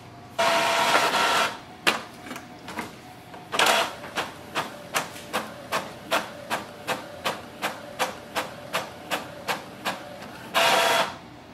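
An Epson EcoTank ET-4850 inkjet printer printing a test page: bursts of whirring feed motor at the start, middle and end, with a long run of evenly spaced mechanical clicks from the print head in between, close and clear, with no talk.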